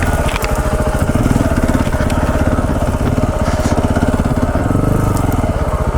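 A small chainsaw bites into a windfall tree outdoors, its engine snarling loud and steady at high revs with a dense, buzzing chatter that holds without pause, close to the listener and with no voices.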